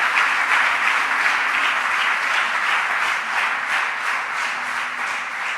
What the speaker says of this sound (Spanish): Le da un aplauso fuerte a Dios por eso